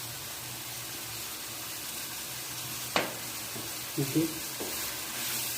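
Aloo chicken masala fries in a pan in a Pakistani home kitchen while being stirred, a steady soft sizzle with a few scraping knocks near the end; someone briefly says a word.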